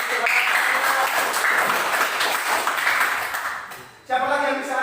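Classroom applause for a student fills the room as a dense, steady patter for about four seconds. It cuts off abruptly and a voice begins speaking right after.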